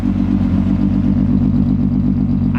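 A car engine running steadily after repair, a loud, even low hum that holds without change throughout, with no voices.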